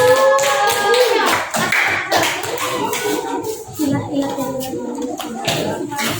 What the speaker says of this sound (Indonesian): Tepuk tangan untuk Bapak Satu.